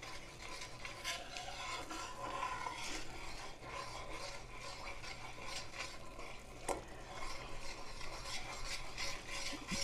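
A spoon scrapes and rubs constantly through sugar and butter cooking for English toffee, a faint, continuous gritty stirring with no talk.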